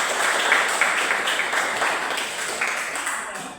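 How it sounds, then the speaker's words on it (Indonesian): A class of students applauds together in a classroom, a steady wash of clapping that holds fairly even and then slowly fades. "Tepuk tangan dulu."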